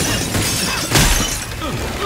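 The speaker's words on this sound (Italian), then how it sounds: "Rompiamo i vetri." Glass shatters loudly in the video game Left 4 Dead 2, a sharp smash near the middle set among game noise and faint voices.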